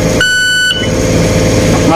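A Furuno echo sounder depth alarm sounds a single short steady electronic beep tone, heard close over a loud constant engine and machinery rumble aboard a vessel.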